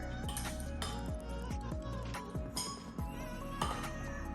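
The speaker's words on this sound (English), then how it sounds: "what I do to mash up my bananas is I just take a pastry blender" A pastry blender mashes bananas in a bowl, sounding as repeated metallic clinks and scrapes against the dish in an irregular rhythm, close and fairly quiet, with soft background sounds.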